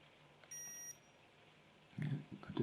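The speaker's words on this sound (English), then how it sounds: "A different beep to let us know it's turned off." A short high electronic beep tone from a waterproof hat camera powering off, faint and brief, followed by some rustling handling noise.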